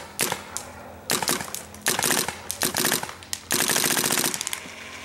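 2012 Bob Long G6R paintball marker firing rapid strings of shots, sharp fast bursts of popping in several separate volleys with short gaps between, close and crisp.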